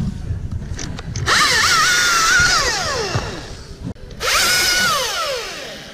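Husqvarna T540i XP cordless chainsaw cutting branches while pruning a linden tree, a loud, close whine that rises and falls in pitch as the chain bites through wood, in two long cuts with a brief gap between.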